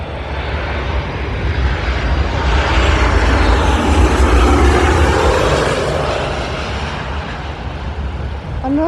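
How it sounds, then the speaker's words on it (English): A Southwest Airlines airliner departing Midway International Airport gives a loud, sustained jet engine roar that swells to a peak midway and then slowly fades, with no voices over it. "Another Southwest Airlines. Departing"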